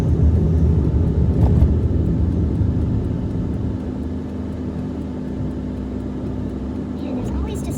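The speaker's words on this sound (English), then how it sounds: "there's always just so much more traffic in the evening" Steady evening road traffic rumbling past a moving car, a constant low drone of engines and tires without any break.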